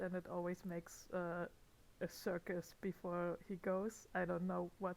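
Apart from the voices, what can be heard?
No everyday noises stand out.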